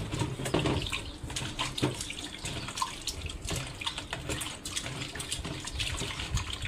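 Lamb testicles being rinsed under a running kitchen tap, water splashing and spattering continuously, with irregular sloshes and knocks as the meat is rubbed by hand, close and moderately loud, with no talking.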